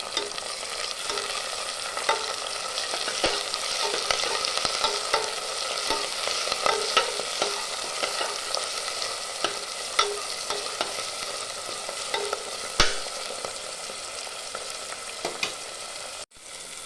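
Finely chopped tomato and onion sauté in oil for a duck curry, giving a constant crackling sizzle punctuated by frequent close scrapes of a stirring spoon.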